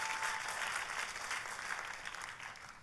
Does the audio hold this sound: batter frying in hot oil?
no